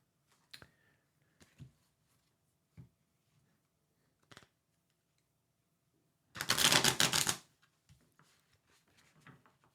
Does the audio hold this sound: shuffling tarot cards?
yes